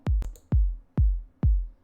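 A processed kick drum from a deep trance and chill house track, compressed and equalised, struck four times at an even pace, each hit a loud, deep, punchy thump with a quick decay, alone and close.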